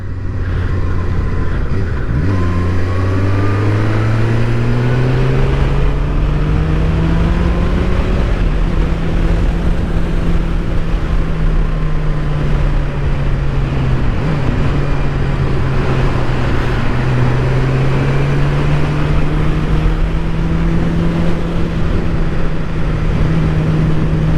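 Suzuki Gixxer 750 motorcycle engine pulling hard on an open road, its loud drone climbing in pitch through several gear changes over about twenty-four seconds, with steady wind rush throughout.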